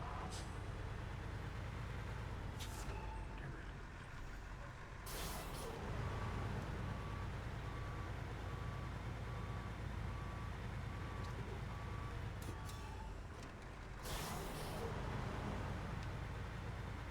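A truck in the SnowRunner video game drives with a steady, rumbling engine drone, and a faint string of regular reversing beeps repeats through the middle; there are occasional sharp bursts of air brake or hiss.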